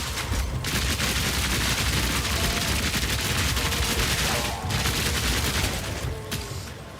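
Rapid fire from an automatic crossbow in Path of Exile 2 rattles on continuously, a loud, dense stream of overlapping shots with bursty impacts and a few brief gaps, backed by game noise.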